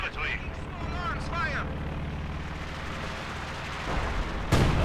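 Company of Heroes 2 artillery support barrage opens with a few sharp whistles, then a low rumbling bed of distant impacts and a loud blast near the end, all quite faint.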